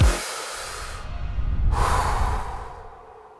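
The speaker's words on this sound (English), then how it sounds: "Take a deep breath." A person taking one deep breath, a long airy inhale swelling to a peak and then easing off, close and fairly soft with no talking.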